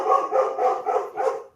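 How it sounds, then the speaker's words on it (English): A dog barks near the microphone, four quick, loud, evenly spaced barks in a little over a second, with no talking over them. "Sorry about the dog, guys."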